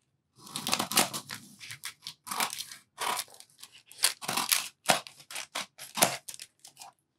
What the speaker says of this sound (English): we'll just cut away this excess